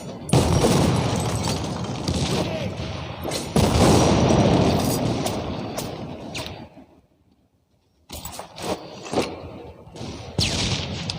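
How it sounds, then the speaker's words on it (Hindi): Grenades blow up amid rapid gunfire in the video game World War Heroes, with dense booming volleys and machine-gun bursts, then a brief silent pause before scattered shots and blasts resume. "ये बम फेंक रहे हैं, ग्रेनेड फेंक रहे हैं इधर"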